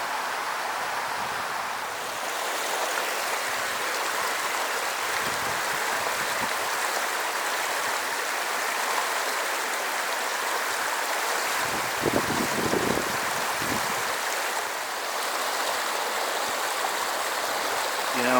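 Steady rushing flow of a creek in a Colorado canyon, a continuous close wash of water noise with a few brief low bumps, lasting throughout without talking.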